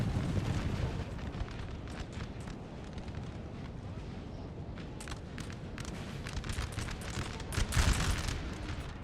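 Artillery fires in the Napoleonic Total War 3 4v4 battle game, a dense and continuous rumble of cannon volleys and musketry with repeated sharp bursts. The battle noise stays fairly distant and quiet, and a voice talks over it.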